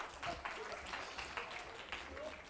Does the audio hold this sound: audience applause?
yes